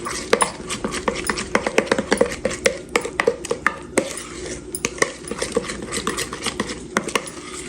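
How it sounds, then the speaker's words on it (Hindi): Chicken drumsticks being tossed and mixed with spices in a metal bowl, giving a steady run of close, clinking and scraping utensil strikes with no talking. "अब इसको अच्छी तरह हम मिक्स कर लेंगे, तमाम मसाले को।"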